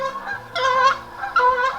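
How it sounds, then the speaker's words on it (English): Waterfowl on a lake in the morning call loudly and close by in two honking bursts, harsh and nasal, with no voices. "Oh, the ducks are going crazy in the lake."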